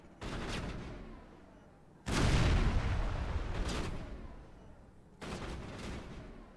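Grenade explosions and combat blasts in the sci-fi shooter video game Mass Effect, three broad booming bursts spaced a couple of seconds apart, loud and close with fading rumbling tails, no talking.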